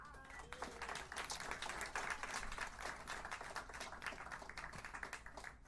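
A crowd applauds from a distance at a live music album release show, steady dense clapping that continues for several seconds at a fairly faint level.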